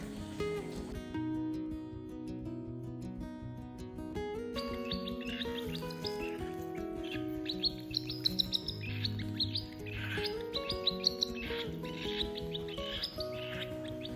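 A cockatiel chick being hand-fed makes repeated, insistent chirping calls in quick bursts, close by and fairly loud, continuing over a steady tonal background.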